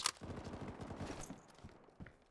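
Rapid gunfire from a machine gun in the survival game DayZ, with a sharp shot at the start, a dense burst of repeated reports, then a few trailing shots that fade out. No voices.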